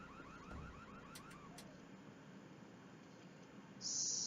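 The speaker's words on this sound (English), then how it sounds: "Someone just came and turned off an alarm, which kind of freaked me out" A warbling electronic alarm sounds in the video game Nancy Drew: Secrets Can Kill, fairly faint and rising and falling in pitch, then cuts out, before a harsh high tone starts abruptly at the very end.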